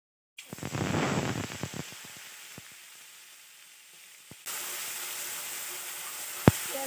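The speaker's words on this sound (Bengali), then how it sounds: "তেল গরম হয়ে গেছে তো সবার প্রথমে দিয়ে দেবো আমি এখানে পেঁয়াজ রসুন বেটে নিয়েছি" Ground onion and garlic paste drops into hot oil and sizzles loudly at first, then settles into a softer steady frying hiss, with a few clinks of a utensil against the pan.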